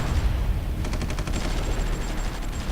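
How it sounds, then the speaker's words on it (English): Naval frigate bombardment in the strategy game Supreme Ruler 2020, a steady rattle of rapid gunfire bursts and distant booming over a dense rumbling background, with no talk. "I can have one of my frigates fire some missiles. That is, if he can. Okay, they're doing bombardment."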